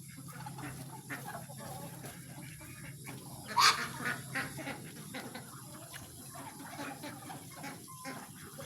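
A brief burst of duck-like honking calls rises above steady outdoor background noise, with a few softer calls trailing after.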